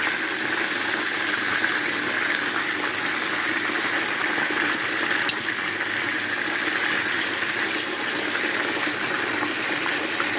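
Marinated chicken pieces, just turned over, sizzle in hot oil in a wok, a loud, constant frying hiss with a couple of faint utensil clicks near the start.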